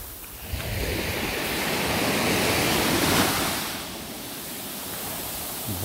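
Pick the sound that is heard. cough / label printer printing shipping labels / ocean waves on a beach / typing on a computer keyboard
ocean waves on a beach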